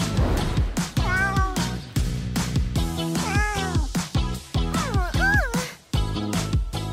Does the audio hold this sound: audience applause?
no